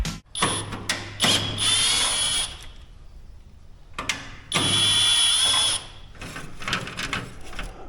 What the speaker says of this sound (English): we'll unbolt these, unbolt this, we can get the rest